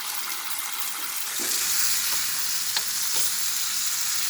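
Steady sizzling and crackling of oxtail browning in a hot pan, with a few soft clinks and scrapes partway through.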